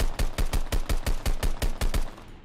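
Rifle gunfire in the video game Deadrop: a loud, steady automatic burst of about eleven evenly spaced shots fired in quick rhythm, with no voices over it.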